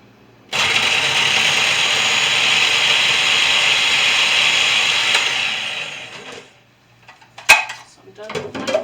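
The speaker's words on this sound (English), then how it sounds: "So I'm done with my food processor." A food processor's loud, steady whirring motor runs for about six seconds while making chili, then cuts off, followed by a few clinks and scraping sounds.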